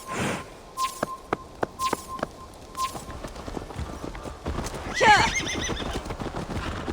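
A loud horse neigh rings out amid rapid hoofbeats and short clattering clops, with a faint chime-like tone early on, in the video game Assassin's Creed Valhalla.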